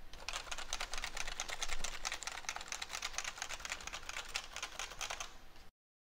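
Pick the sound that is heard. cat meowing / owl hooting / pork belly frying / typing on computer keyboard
typing on computer keyboard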